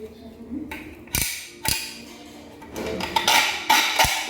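Silicone sealant cartridge being loaded into a caulking gun for a homemade aquarium setup, a few sharp plastic-and-metal clicks and clacks against faint background noise.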